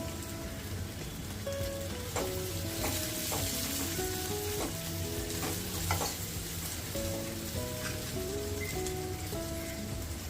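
A handful of asafoetida sizzles in hot oil while cooking a drumstick (moringa pod) curry, with a steady close frying hiss running under background music with a melody.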